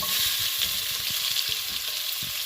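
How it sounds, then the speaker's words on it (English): Onions sizzle steadily with cumin seeds in a hot pan, a bright hissing crackle with soft scraping stirs underneath. "You hear that sauteing?"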